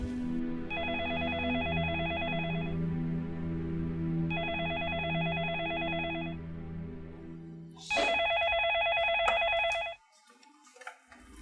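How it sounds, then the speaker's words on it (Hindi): A telephone rings in repeated electronic bursts, then a louder different ring, then it stops; quiet room noise remains, no speech. "अरे इस वक्त किसका फोन आ गया?"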